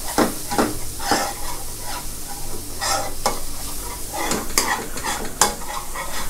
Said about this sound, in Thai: ผัดจนหอมแดงเขาเริ่มแห้งหน่อยๆนะครับ ไฟอ่อนใจเย็นๆนะครับผัดใจเย็น